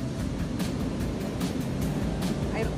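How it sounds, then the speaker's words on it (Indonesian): Big ocean waves rolling and breaking on a beach in Malang, East Java, a continuous loud wash of surf with repeated surges, heard close and without talking. "Ombaknya besar banget."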